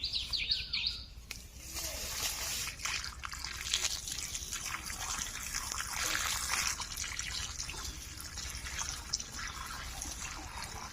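Small potatoes are washed by hand in water, with soft splashing, trickling and rubbing sounds that rise and fall. Faint birdsong plays in the background, and a voice is briefly heard.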